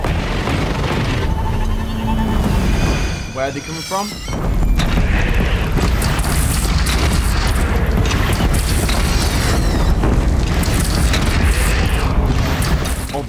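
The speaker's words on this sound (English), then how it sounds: "Take up a cannon on the platform." Cannon firing in the video game Horizon Zero Dawn, heavy booms and bursts amid dense battle noise, with a person talking over the action.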